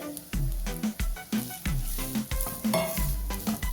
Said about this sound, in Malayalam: ഞാൻ കുറച്ച് നാളികേരം നെയ്യിലൊന്ന് മൂപ്പിച്ചെടുക്കുന്നുണ്ട്